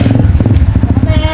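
A motorcycle engine idles close by, a steady low throbbing rumble with a slightly uneven beat running through the whole short stretch.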